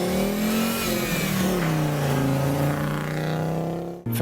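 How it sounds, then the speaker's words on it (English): A loud, nearby Audi quattro rally car with a five-cylinder engine holds a steady, rasping rev with slight pitch wavers, then cuts off abruptly at the end. "The second thing is the sound of a 5-cylinder engine."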